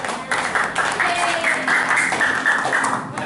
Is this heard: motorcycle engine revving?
no